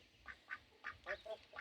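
Farm ducks quacking in a quick series of short, fairly faint calls, about six in under two seconds, with no talk over them.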